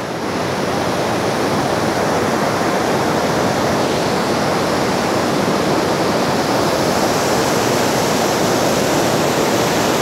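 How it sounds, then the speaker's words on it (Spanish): Loud, continuous rushing of a waterfall near Nanaimo, a dense, unbroken roar of falling water close by with no voices. "Y ni siquiera sé si se va a escuchar correctamente por el ruido del agua"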